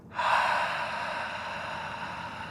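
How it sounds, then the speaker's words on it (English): A single long, breathy ujjayi exhale with a hushed, airy rasp, like fogging a mirror, starting abruptly and slowly fading over a couple of seconds. "bring your hand to your mouth like you're fogging up a mirror"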